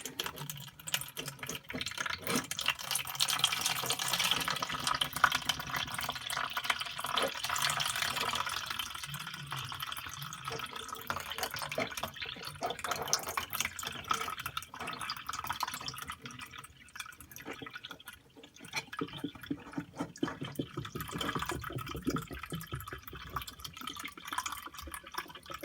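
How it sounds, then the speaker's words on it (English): Water drains from a front-load washing machine's filter during an E1F3 error fix, trickling and dripping steadily into a container nearby, a continuous splashing flow that lasts throughout with slight variations in intensity. "You see that water is draining"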